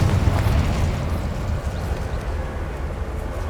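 A Confringo blasting spell in Hogwarts Legacy lands with a deep, rumbling explosion that starts loud and then trails off into a rough, low roar.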